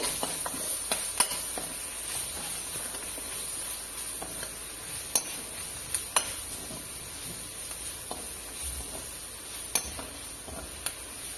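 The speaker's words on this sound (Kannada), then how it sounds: "ಈರುಳ್ಳಿ ಎಲ್ಲ ಚೆನ್ನಾಗಿ ಗೋಲ್ಡನ್ ಕಲರ್ ಬರುವ ಹಾಗೆ ಚೆನ್ನಾಗಿ ಫ್ರೈ ಮಾಡ್ತಾ ಇರಬೇಕು" Chopped onions and green chilies fry in oil in a pan, a steady soft sizzle and hiss broken by scattered clicks and scrapes of a spoon stirring against the metal.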